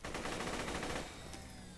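Rapid automatic gunfire from a Vladof assault rifle in Borderlands 2 that spins up to a fast sustained rattle. The burst is loud and continuous, then cuts to a quieter tail with lingering ringing.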